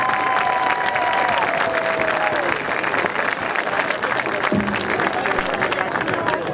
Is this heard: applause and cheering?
yes